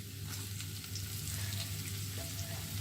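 A large finely chopped onion frying in oil in a pan while making vegetable samosa filling, a continuous crackling sizzle over a low hum, close and steady, with no talk.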